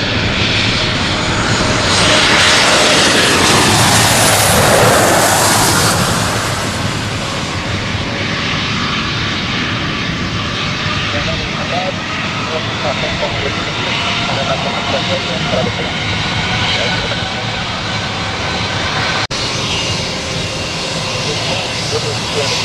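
An airliner lines up and takes off at Santos Dumont Airport in Brazil. A loud, broad jet roar swells and sweeps past early on, then settles into a steady, sustained rumble as the plane climbs away.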